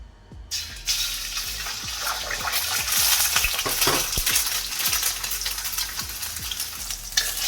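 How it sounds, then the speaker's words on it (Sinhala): Two eggs fry in about two tablespoons of hot oil in a pan, a steady loud sizzle with sharp crackles and spatters running throughout, plus a few light taps from stirring. "ඊට පස්සේ මේක හොඳට රත් වෙනකොට මම එකතු කරනවා බිත්තර දෙකක්."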